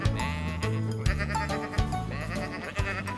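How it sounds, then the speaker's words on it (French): Sheep bleat repeatedly in a French tractor cartoon, several wavering nasal cries overlapping with light background music, close and moderately loud, with no talking. "Mais alors que Riff reconduit les moutons dans leur pré,"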